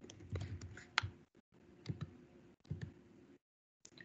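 Computer keyboard typing in short clusters of light, quick key clicks, close and fairly quiet, separated by brief silent pauses.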